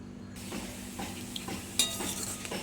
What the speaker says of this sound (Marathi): हा बटरमध्ये कांदा मी परतून घेत आहे